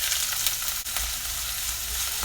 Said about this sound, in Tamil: எண்ணெய் சூடாயிருச்சு. இந்த வெங்காயத்தை போட்டுடலாம்.